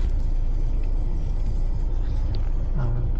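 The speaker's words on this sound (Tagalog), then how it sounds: "Traffic yun." Steady broadband road traffic rumble from passing cars and buses at a T'nalak Festival opening, continuous and fairly loud throughout with no clear voices.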